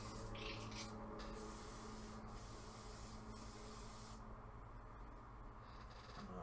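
An airbrush sprays cleaner to flush out yellow paint, giving a continuous close hiss with brief stops and restarts as the trigger is released and pressed.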